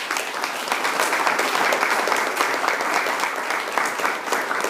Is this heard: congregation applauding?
yes